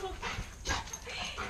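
A golden retriever whimpers in short, close, plaintive whines that rise and fall over a second or two, with faint background noise.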